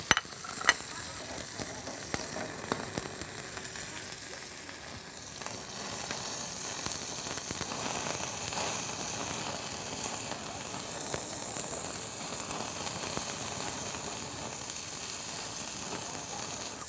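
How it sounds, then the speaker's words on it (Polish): Shrimp and chicken stir-fried over a high flame sizzle steadily and loudly for the whole stretch, with a bright hiss and scraping stir noises on top and no talking. "I teraz tutaj musi się znaleźć trochę krewetek i trochę kurczaka. Szybkie smażenie z płomieniem."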